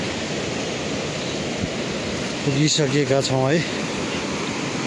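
Roar of the Budhi Gandaki river rushing below a rockfall-damaged suspension bridge on the Manaslu trail near Nyakphedi, a steady broadband wash throughout, with someone speaking briefly over it near the middle.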